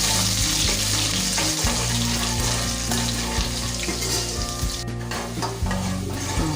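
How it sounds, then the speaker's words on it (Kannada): Garlic hits hot oil already crackling with cumin for an okra palya, producing a loud, close, vigorous sizzle with a thudding, stirring rhythm underneath, and no talk. "ಬೆಳ್ಳುಳ್ಳಿ ಹಾಕಿ ಒಂದು 2 ಸೆಕೆಂಡ್ ಕಾಲ ಫ್ರೈ ಮಾಡ್ಕೊಳ್ಳೋಣ"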